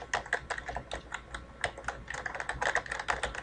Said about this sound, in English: I'm going to type in Forsyth County Public Library.